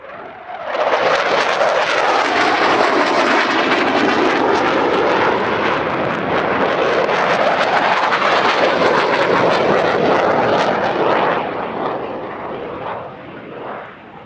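Dassault Rafale M jet in an airshow display at Villaroche, a loud roaring pass that swells and shifts in pitch as it sweeps by, then fades toward the end.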